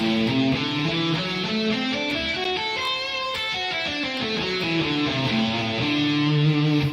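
A guitar runs through the fourth shape of the dominant pentatonic scale, notes rising and falling in a steady stream, played alone and fairly loud.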